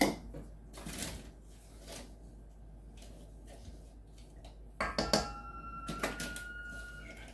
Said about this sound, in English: you can probably hear my scanner